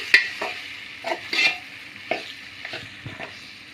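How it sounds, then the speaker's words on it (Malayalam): Salted turmeric lemons are mixed into frying chilli for pickle, a soft sizzle broken by several distinct spoon scrapes and clacks against the pan, close and fairly quiet. "നാരങ്ങ നമ്മൾ അതിനകത്തോട്ട് ചേർത്ത് കൊടുക്കുകയാണ് കേട്ടോ ഇനി നമുക്കത് നന്നായിട്ടൊന്ന് മിക്സ് ചെയ്ത് കൊടുക്കാം"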